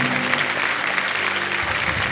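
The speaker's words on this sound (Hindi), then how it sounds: "तालियां बज जाए इनके लिए" A studio audience on a quiz show claps in a full, even burst of applause, with a low musical tone sounding underneath.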